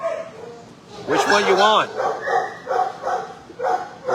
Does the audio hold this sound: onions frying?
no